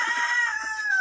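A chicken at a pig farm crows briefly, a short, bright, strained call that holds close and clear for about a second.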